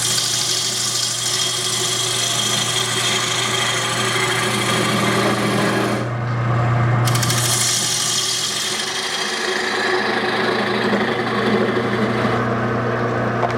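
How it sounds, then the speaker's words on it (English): A wooden bowl spins on a lathe with a steady loud hum, and a cutting tool makes a continuous scraping rasp against the wood. The cut stops for about a second midway, then carries on. "turning wood on the lathe is still my favorite"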